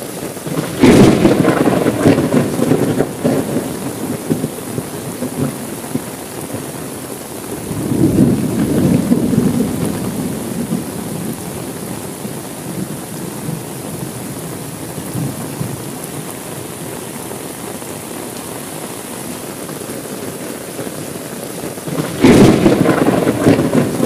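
A night thunderstorm brings steady heavy rain on surfaces, with deep rolls of thunder rumbling loudly near the start, middle and end.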